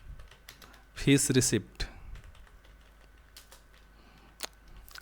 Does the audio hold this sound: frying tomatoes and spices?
no